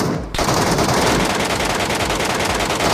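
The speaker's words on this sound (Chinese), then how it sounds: "一梭子一发都没打中啊" Sustained machine gun burst from a PUBG-style battle royale game, loud and continuous for nearly three seconds after a short quiet start, each rapid shot running into the next.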